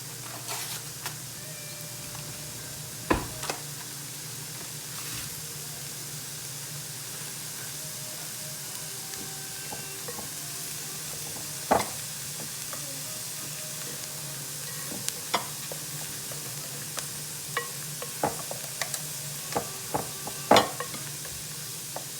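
Onions and peppers sizzle in a pan with a soft continuous hiss, punctuated by occasional sharp clicks and taps of a utensil against the cookware, heard close with no speech.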